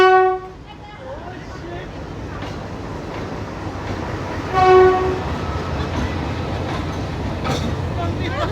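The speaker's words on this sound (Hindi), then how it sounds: "फर्स्ट ट्रेन जो आई, it was a normal local train अपने मुंबई जैसी" A local train rolls through Hanoi's narrow Train Street, sounding two clear horn toots, one at the start and one mid-way, over a steady rumbling roar, with crowd voices in the background.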